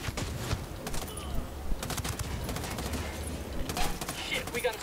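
Gunfire rattles through a firefight in Ghost Recon Wildlands, with a sniper among the shooters: dense bursts and scattered sharp cracks over a continuous rumble, with voices talking through the action.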